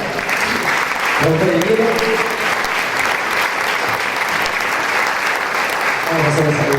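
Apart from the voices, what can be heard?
audience applause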